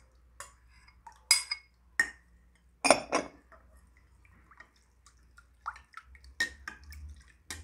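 A small spoon clinks against a bowl while stirring chocolate pizza batter with oil and butter, a few sharp scattered taps and scrapes, close and quiet, with brief pauses between them.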